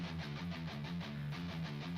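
Arabic-style royalty-free music used as a hockey broadcast theme plays quietly, a repeating rhythmic melodic figure with steady pulses, heard alone without voices.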